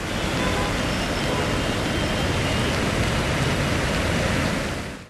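Incessant heavy rain falls on flooded Hyderabad roads, a loud, unbroken wash of broadband noise that never lets up, with no voices.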